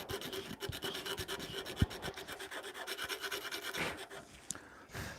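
Coarse 36-grit sandpaper rubbing back and forth over a surface to knock down flat spots, a steady close rasping scrape in quick repeated strokes with a couple of sharp knocks, no talking.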